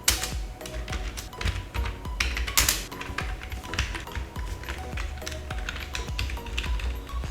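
Rapid typing on a computer keyboard while writing Python code, a dense run of clicky keystrokes over steady low background noise, close and fairly loud.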